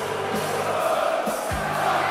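A darts crowd cheers and roars at an evening match after a tense draw against the world number one, a steady wash of massed voices filling the whole stretch.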